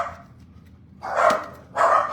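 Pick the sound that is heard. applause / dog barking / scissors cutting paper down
dog barking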